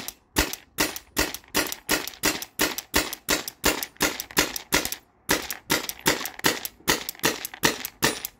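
Modified Byrna TCR launcher fed by a remote air line, firing a long series of sharp, close pneumatic shots in a fairly steady rhythm, with one brief gap midway before the rapid shots resume.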